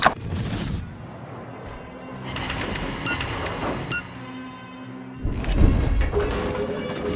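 Naval guns on the cruiser Wichita firing during a World of Warships clan battle: a booming blast at the start, a long rumbling ambient tail, then another heavy salvo near the end, fairly close and loud.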